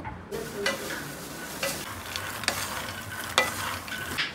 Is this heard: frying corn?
yes